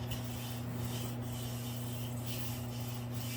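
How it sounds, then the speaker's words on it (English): A wood frame edge being sanded by hand with 220 grit sandpaper: a steady, continuous close-up rubbing hiss with faint rhythmic strokes, over a low constant hum and with no talk. "I'll just take my my 220 grit sandpaper and I'll run right along this edge, any edges"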